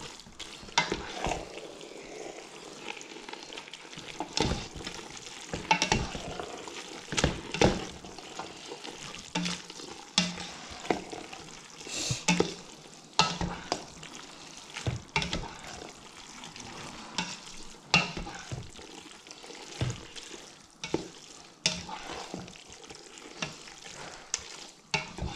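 Vegetable pasta sauce frying in a pan while being stirred, with a soft continuous sizzle and frequent irregular scrapes and clicks of a spoon against the pan, fairly quiet and close, without speech.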